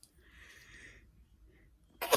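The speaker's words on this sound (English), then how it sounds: "I have to sneeze." A single sharp sneeze bursts out at the very end, loud and close, after a stretch of quiet room noise.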